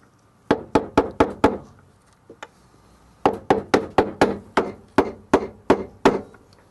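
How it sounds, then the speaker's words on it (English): A bolt taps the bearing out of an Electrolux washing machine: a quick run of five sharp knocks, one faint tap, then a steadier series of about nine evenly spaced blows, close and alone. "I'm just going to use this bolt just to start tapping."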